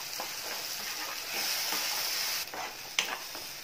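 Peanut chutney paste being stirred in a hot pan, a soft steady sizzle with faint scraping strokes of the spoon, fairly quiet and close.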